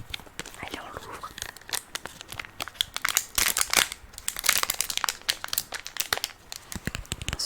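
A Magic: The Gathering Kamigawa collector booster pack's foil wrapper is torn and crinkled open up close, with bursts of crackling and rustling.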